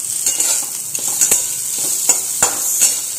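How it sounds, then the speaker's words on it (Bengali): Fried bitter gourd and fried potatoes are stirred together in a hot pan. A steady, bright sizzle runs throughout, broken by sharp, irregular scraping strokes of the spoon, close and loud with no voices. "উচ্ছেটা ভাজা হয়ে গেছে, এবারে সকালের আলু ভাজাটা এর মধ্যে মিক্স করে দিলাম।"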